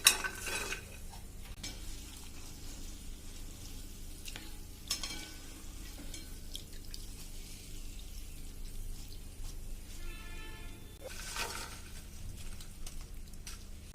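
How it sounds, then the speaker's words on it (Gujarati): Papdi gathiya frying in a pan of hot oil: a steady crackling sizzle with occasional metallic clinks and scrapes from a stirring utensil, sharper bursts every few seconds. "તો આ રીતે તમારે પાપડી તળવાની છે"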